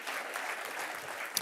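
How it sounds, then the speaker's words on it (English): An audience at an award ceremony for European small retail gives a round of applause, a fairly faint, dense, continuous clapping from many hands that holds steady throughout. "Come on, another round of applause"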